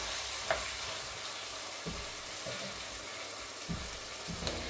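Chicken devil masala with chilli sauce frying and sizzling in a pan, with a few sharp scrapes and knocks of a spoon stirring it through a steady close hiss.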